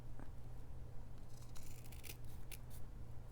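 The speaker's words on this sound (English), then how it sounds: "then you fold that in half and cut at an angle up" Scissors snip through folded ribbon at an angle, a few quick crisp cuts in close succession over a low steady hum, quiet overall.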